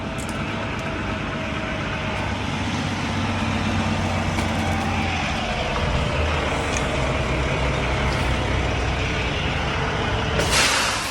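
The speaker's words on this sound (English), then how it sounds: "It's a truck pulling up next to me." A heavy truck idles and rolls up close alongside another rig loaded with steel pipe in Cartersville, Georgia, its engine rumbling steadily, ending in a sharp, loud hiss of air brakes.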